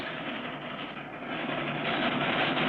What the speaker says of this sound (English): As the little train starts across the bridge, Clutch and Company blown to bits.